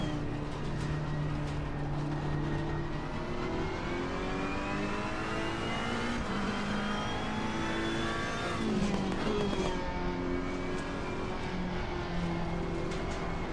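A race car in Assetto Corsa Competizione on PS4 drives hard through a corner and accelerates out of it, its engine note rising and falling steadily with each gear change, loud and continuous.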